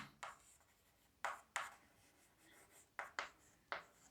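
Pen or chalk strokes scratch in short bursts as someone writes out a maths working by hand, about six quick faint strokes with pauses between, no talking over them.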